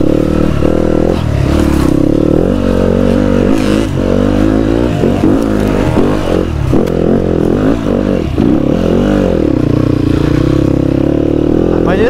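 Enduro motorcycle ridden along a mountain valley trail in early season, its engine loud and close throughout, revving and dropping in uneven bursts with clattering and scraping from the rough ground.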